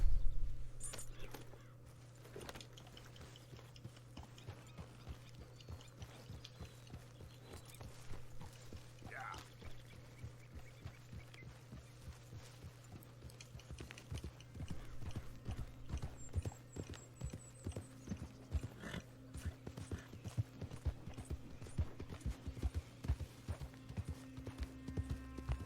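Horse hooves clip-clop in the video game Red Dead Redemption 2, in a steady walking rhythm that grows busier later on, with gear jangling and a voice talking over it.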